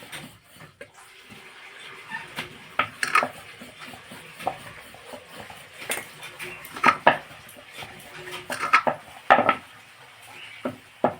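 A paratha being rolled out into a long shape with a rolling pin, with soft rolling scrapes interrupted by irregular clicks and knocks of the pin and utensils against the board.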